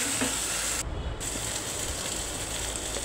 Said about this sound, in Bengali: অল্প সময় ধরে ভেজে নিতে হবে যাতে মশলার গন্ধ চলে যায়।